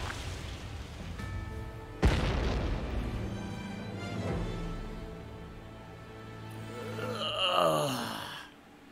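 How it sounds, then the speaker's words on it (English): Surface-to-air missile explosions in a combat flight video game: a sharp blast followed by long rumbling booms and a rising whine near the end, moderately faint with no talk. "use yourself as a decoy for the surface-to-air missiles"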